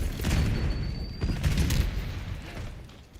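A frag grenade blast in Call of Duty Black Ops 6 rolls out as a dull, heavy boom amid gunfire-like clatter, moderately loud with no voices over it.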